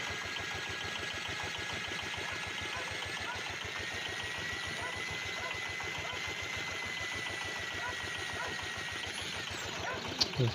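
An electric drill grinds steadily through metal for a homemade walk-behind tractor attachment, a continuous pulsing motor whine with a rhythmic low throb, the bit slipping at times, ending with a few brief clatters.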